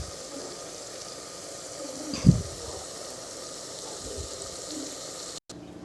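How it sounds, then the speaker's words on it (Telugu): Water goes into a pan of mutton curry with a sudden loud hiss and splash that fades into a quieter, continuous bubbling simmer. There is no talking. "ఇప్పుడు వాటర్ వేసుకోవాలి."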